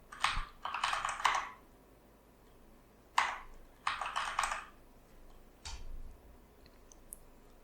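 Password being typed on a computer keyboard during Fedora 39 workstation setup: three quick bursts of crisp key clicks separated by pauses, then a single tap, close and moderately loud with no talking.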